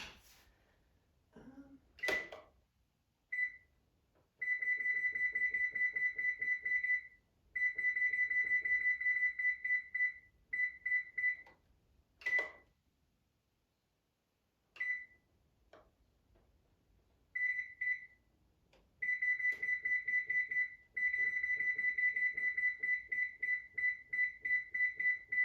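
Electronic stove timer beeping as it is set, sharp repeated high-pitched beeps in short bursts and longer rapid trains separated by pauses, a few soft clicks between, close and alone.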